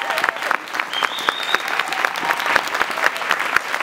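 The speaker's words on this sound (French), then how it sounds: "Applaudissez-les parce qu'ils se sont battus." A crowd applauds loudly at a political gathering linked to the Gilets Jaunes movement, with dense, rhythmic clapping throughout and a brief whistle in the middle.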